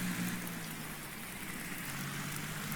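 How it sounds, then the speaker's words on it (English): Rain falling steadily in a farming video game, a constant dense hiss of drops on surfaces that holds evenly throughout with no gaps and no voices. "rain has started"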